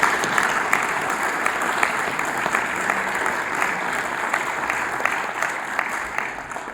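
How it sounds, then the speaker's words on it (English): A sustained, even round of applause fills a council chamber at a borough mayor-making ceremony, many people clapping steadily for several seconds with no talk over it. "A round of applause, please, to Mr. David Airey."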